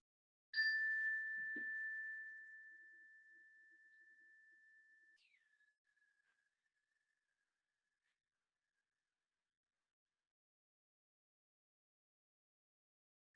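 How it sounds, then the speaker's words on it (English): A meditation chime rings once to open a timed breathing practice in a gentle yoga session, a clear bright tone that hangs and slowly decays to silence over several seconds. "I'll ring a chime to start."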